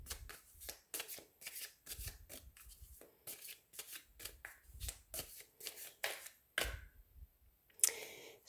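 Playing cards shuffled by hand for a card reading, in a steady run of quick riffling bursts with short pauses between them, close and fairly quiet, with no talking.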